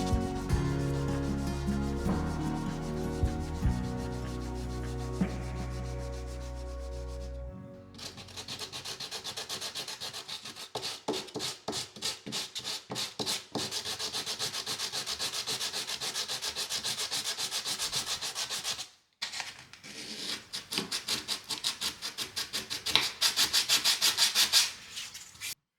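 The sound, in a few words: sanding cured polyester putty smooth with sandpaper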